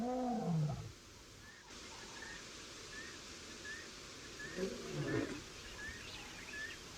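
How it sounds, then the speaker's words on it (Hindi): On the open savanna a lion gives two separate deep, groaning roars, one at the start and a second a few seconds later, while small birds chirp faintly and repeatedly in the background. "दहाड़ की आवाज मैदान से आ रही है।"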